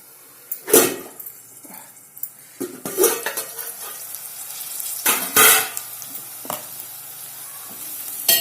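Onions frying in oil in a pan give a soft, steady sizzle, broken by several sharp metallic clinks and scrapes of a spoon stirring against the pot, close and fairly loud.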